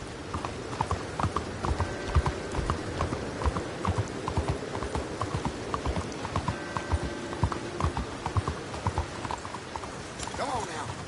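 Horse hooves clip-clop at a steady gallop on a trail in Red Dead Redemption 2, a continuous rhythmic pounding beneath game music and ambient sound, with occasional speech layered over it.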